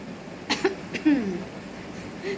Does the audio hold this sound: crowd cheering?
no